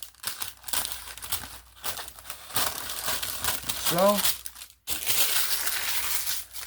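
Parchment paper crinkles and crumples while being handled and trimmed with scissors, with steady rustling and crushing noises running under a speaking voice.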